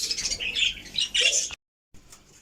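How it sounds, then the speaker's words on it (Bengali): Budgerigars squawk and chatter at close range in quick bursts at a feeder, then break off into silence before a few faint chirps return. "বাজরিগারও আসছে, বাজরিগারও খায়"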